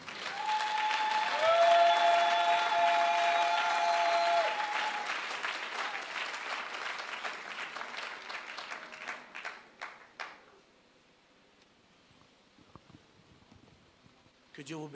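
A church congregation applauding loudly and steadily, with a voice calling out over the clapping and sustained tones underneath, then fading into scattered claps and quiet near the end.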